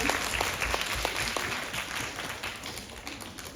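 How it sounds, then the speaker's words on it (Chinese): A crowd applauds steadily, many hands clapping in a dense patter that holds throughout at moderate loudness, with no one speaking. "再掌声有请"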